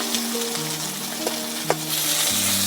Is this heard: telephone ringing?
no